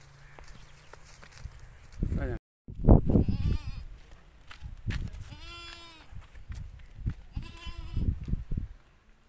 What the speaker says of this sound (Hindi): शफीक भाई, ये बकरी भी मेरे पास मौजूद है